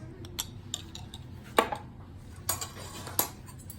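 A utensil mixes mayonnaise in a bowl, making a few scattered clinks and scrapes against the sides over a soft background; close and fairly quiet, no talking.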